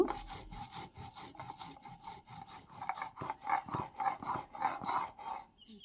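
Fried coriander, cumin, bay leaf, ginger and garlic ground together on a stone, giving a steady rhythmic scraping and rubbing, close and moderately loud, repeating in even strokes for several seconds.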